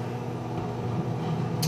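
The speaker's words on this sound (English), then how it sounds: "Microwave that for about a minute." A steady low hum of a microwave oven running, even and continuous, with a faint soft hiss and a brief higher tone near the end.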